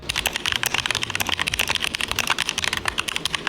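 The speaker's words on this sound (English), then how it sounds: "the sound did change a bit when I swapped to these from the original keycaps" Fast typing on a Keychron K2 mechanical keyboard with its original keycaps, close up: a dense, steady stream of crisp, clacky keystrokes with no voices.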